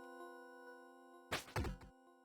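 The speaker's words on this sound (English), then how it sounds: "You cut the rope with the hacksaw and you hear a thud of something hitting the ground below" A dull thud marks something dropping to the ground below after a rope is cut with a hacksaw in the UFO 50 game Night Manor. The impact lands as two quick, close heavy knocks after a quiet hum.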